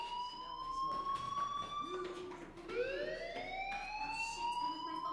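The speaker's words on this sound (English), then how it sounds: "Hey, do you hear that fire alarm? That means you should be outside." A fire alarm rings in a video game, rising and falling siren-like tones that sweep upward in repeated waves, fairly quiet and alone with no voices.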